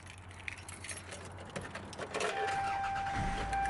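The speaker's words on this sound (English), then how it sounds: "Now I got the key." Car keys for a 1992 Toyota Camry 2.2L jingle close by in a short metallic rattle, followed by a steady electronic chime from the car.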